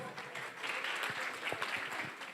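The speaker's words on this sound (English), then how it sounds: "Round of applause, round of applause," A crowd at a dance event applauds briefly, the clapping moderately faint and diffuse, as if heard from a distance.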